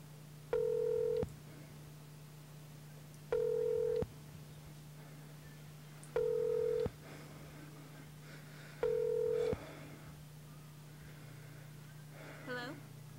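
Cell phone tones sound four times at a steady interval, each a short, clear, level beep over a constant low hum, with faint voices near the end.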